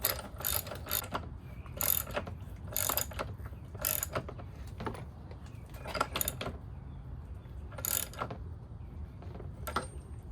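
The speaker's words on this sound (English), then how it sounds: "tighten up this top bolt now." A ratchet tightens a motorcycle's fork top bolt on a 2025 X-Pro Templar 250, giving repeated close, sharp clicking bursts in an uneven rhythm.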